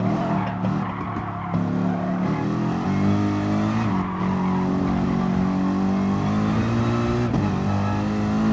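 A race car laps the Nurburgring GP circuit with a loud, sustained engine drone that rises and falls through gear changes and corners, heard close from the cockpit without talk.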